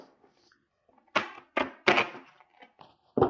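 Rebel Oracle cards by Alana Fairchild are shuffled by hand in a quiet room, giving a few separate rough riffling bursts and soft slaps close by with short pauses between them.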